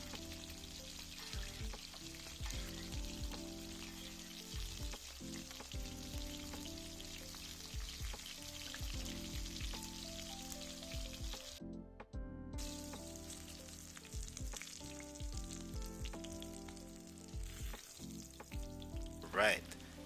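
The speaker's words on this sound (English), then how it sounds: "Spooning over hot oil helps cook the parts of the fish that didn't make contact with the oil or pan" Fish frying in hot oil as oil is spooned over it gives a soft, steady crackling sizzle, fairly quiet. It drops out briefly midway, and a few sharper spatters come near the end.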